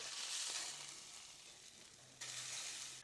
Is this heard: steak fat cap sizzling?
yes